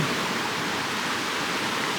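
A creek flows steadily close by, its rushing water forming a continuous, even wash of sound with no voices over it.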